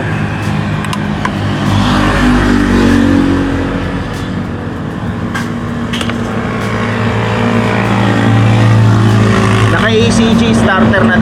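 A 2026 Yamaha Mio Gravis version 2 scooter engine starts on its ACG starter and idles with a steady, close hum, its pitch shifting slightly as it runs, with a voice talking over it.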